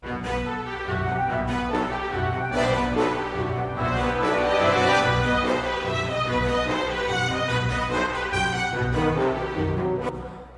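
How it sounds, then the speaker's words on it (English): A full string orchestra plays together, rich layered bowed strings spanning low to high registers, sustained and continuous at a steady moderate loudness. "it's with the combination of this whole string orchestra"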